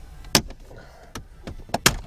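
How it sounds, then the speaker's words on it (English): A trim stick pries at the radio bezel of a 2015 Chrysler 200, giving a few sharp, close plastic snaps and knocks spaced irregularly over two seconds with quieter scraping between them. "grab my trim stick and try to work along the top"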